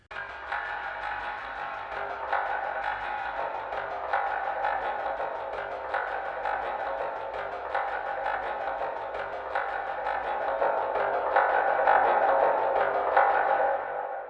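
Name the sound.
guitar palm mute with diffusion effect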